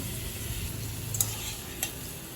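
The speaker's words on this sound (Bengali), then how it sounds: "এখন পটলটা একটু ভাজা ভাজা করে নেব। 2 মিনিট মতো নাড়াচাড়া করে আমি পটলটাকে ভেজে নিয়েছি।" Pointed gourd frying in a pan over medium-high heat, a continuous close sizzle with two brief clicks of a utensil stirring the pieces.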